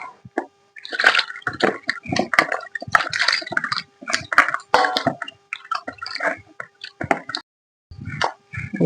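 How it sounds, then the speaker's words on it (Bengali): Chicken pieces for a steamed chicken dish being washed by hand in water with lemon juice, close irregular squelching, sloshing and splashing bursts separated by brief pauses. "এর মধ্যে জল দেবো, জল দিয়ে ধুয়ে নেবো।"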